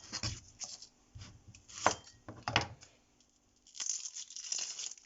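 A knife tops and tails an onion on a board, a run of short crisp cuts and peel-tearing crackles, then a brief pause before more rough chopping, near and fairly quiet with no talking.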